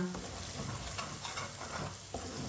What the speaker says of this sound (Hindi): धनिया डाल लेंगे। मसालों को 1 मिनट के लिए पका लेंगे।